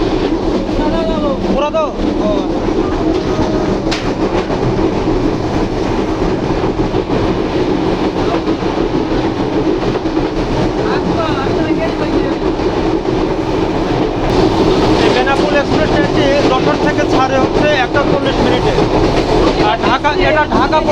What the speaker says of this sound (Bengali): এই কারণে ট্রেনটি খুব স্লো অবস্থায় এই লাইনটি পাড়ি দেয়